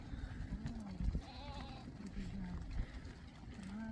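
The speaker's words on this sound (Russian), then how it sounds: "Бегут козлики на водопой." Goats run to a watering hole in Uzbekistan, bleating several times over a busy outdoor background, fairly faint and mid-distance, with some people's voices mixed in.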